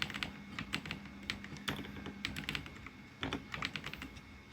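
Quick bursts of clicky keystrokes on a computer keyboard, close and fairly quiet, with brief pauses between runs of typing and no talking.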